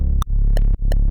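Deep bass in a melodic drum and bass track, its volume manually ducked like sidechain compression, swelling and dropping in three quick pulses with short bright clicks at each dip, loud and alone.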